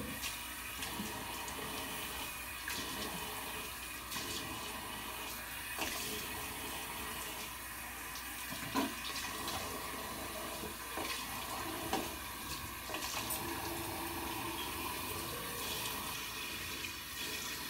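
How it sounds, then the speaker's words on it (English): Water runs steadily from a tap to rinse a skincare product off during a morning routine, a continuous hiss with small splashes and fluctuations, fairly faint and uninterrupted, with no talking. "So I'm gonna rinse it now."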